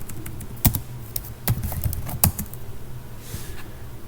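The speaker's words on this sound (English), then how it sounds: "if I want to automate things, I will just have to type in" Someone types on a computer keyboard at a Linux terminal, giving irregular bursts of close, crisp key clicks and taps with short pauses between them, and no talking.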